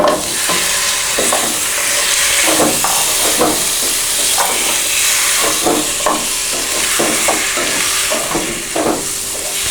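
Chicken pieces sizzle loudly in a hot pan with curry leaves, coriander and mint, a dense continuous frying hiss punctuated by repeated scraping stirs, close and without talk.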